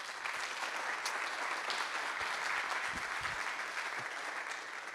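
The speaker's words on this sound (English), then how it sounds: "I want, first of all, a warm applause for all of them who organized this." Steady applause from an audience at a tourism venue awards ceremony, filling the room evenly for the whole stretch, with a few low thumps underneath and no talking.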